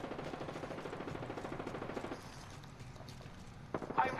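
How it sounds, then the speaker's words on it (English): Rapid automatic gunfire from a video-game firefight rattles in a fast steady burst for about two seconds, then drops away to quieter background game sounds and a sharp sound at the end. "I'm taking fire."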